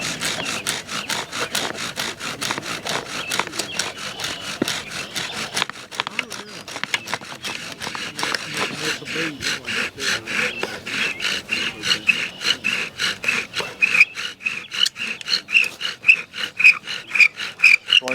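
Rapid rhythmic back-and-forth scraping of a wooden bow drill on wood to start a fire, steady strokes that quicken and grow louder toward the end.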